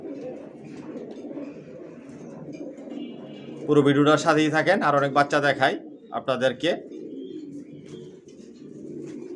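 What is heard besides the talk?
racer pigeons cooing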